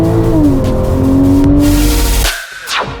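Porsche 911 Turbo with fast-speed headers and a freer-flowing exhaust launching hard on launch control, its loud engine revving up steadily through the gear before a brief lift and a shift, heard up close with no talking.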